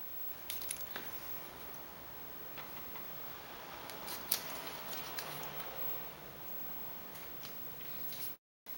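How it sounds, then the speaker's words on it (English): An X-Acto blade cuts through a cardboard maquette for a glass mosaic sculpture, giving faint, scattered ticks and scratchy clicks over a low steady hiss, with no talking. "Now I will finish cutting this side out with my X-Acto blade."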